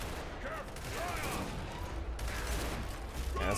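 Boltok revolver fire in Gears of War 5, dense crackling gunfire amid a loud, busy battle mix with rumbling low end and scattered voices.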